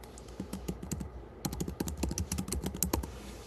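Steady, close typing on a computer keyboard while entering spreadsheet cell labels, with a short pause and then a denser run of crisp keystrokes with no talking over them.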